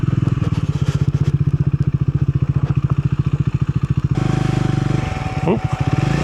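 A Triumph Scrambler 400X motorcycle rides through desert, its engine loud and close with a fast pulsing throb, changing tone partway through as it shifts or changes speed.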